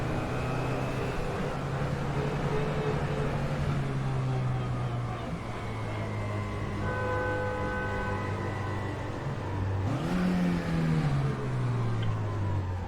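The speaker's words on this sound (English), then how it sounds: "What was that motorcycle?" In the rFactor 2 racing game on the Kicevo track, a motorcycle whips past near a cobblestone pit road, its engine pitch rising then falling quickly over the steady drone of the player's car engine.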